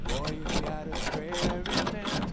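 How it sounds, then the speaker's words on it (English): A ratchet spanner tightens a bolt on a GWM Cannon tub rack support, giving a steady run of close, quick clicking through the whole moment. "I'm just tightening the last bolt so I have all four supports in"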